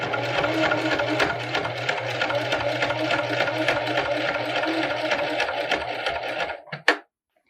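A sewing machine stitching through a denim waistband, running steadily with a fast regular mechanical clatter for several seconds before stopping with a final clunk.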